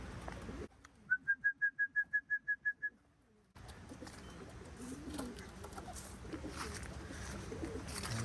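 Racing pigeons returning to their loft, with a quick, evenly spaced run of about ten clear tonal coo-like notes. A steady outdoor background hiss follows.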